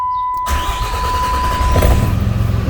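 A 2007 Dodge Ram 2500 with the 5.9 Cummins diesel cranks briefly after a moment of quiet, then catches and settles into a loud, close, rattling idle.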